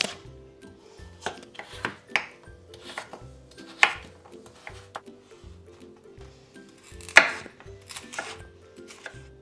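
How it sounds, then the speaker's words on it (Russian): Knife chopping peeled, seeded pumpkin into cubes on a board, a steady series of close, crisp thuds and taps at an uneven rhythm with no talk. "400 граммов тыквы нарезаю кубиками."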